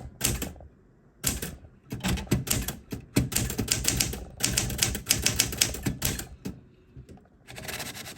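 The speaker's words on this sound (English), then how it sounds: "let's go ahead and type my username for YouTube" Rapid, uneven bursts of key strikes on a 1964 Smith Corona Galaxie manual typewriter, loud and close, with brief pauses between clusters of clacks; no talking.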